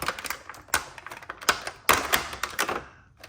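Rubber bands are snipped off a toy package holding a Megatron Armor Skeletor figure, a series of sharp close clicks and snaps in an irregular rhythm, with no talk.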